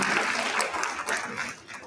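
Steady applause from a crowd at a real estate professionals' event, a dense patter of clapping that carries through the short moment without pause.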